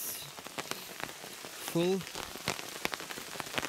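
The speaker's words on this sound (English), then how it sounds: "So, this is that rain water that I collected like in 20 minutes" Rain patters steadily and softly on surfaces outdoors by a river, a dense field of small drops under a person's brief exclamation.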